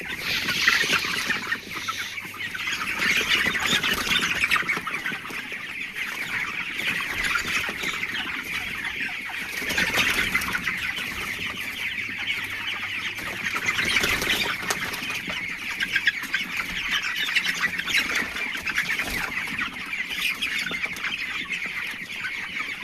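Farm chickens squawk and cluck continuously in a dense, steady chorus inside a poultry shed with the fans switched off, with no one speaking.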